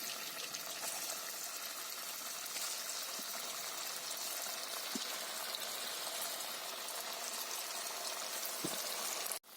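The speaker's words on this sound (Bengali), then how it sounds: "এই রসমালাইটা ভাজার সময় দেখবে নিজে নিজে ফুলে গিয়ে ভেসে উঠবে।" Semolina rasmalai balls fry in very hot oil in a kadai on a gas stove, giving a faint, continuous sizzling hiss with a few small pops.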